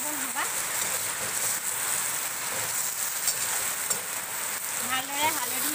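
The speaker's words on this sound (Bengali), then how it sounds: "এতিয়া ডিমখিনি যোগ কৰি দিছোঁ এইখিনি মই লাহে লাহে লৰাইছোঁ" Beaten eggs with turmeric, salt and oil are stirred slowly in a hot pan, producing a constant rainlike sizzle with soft scraping strokes, near and moderately loud; a faint voice surfaces briefly.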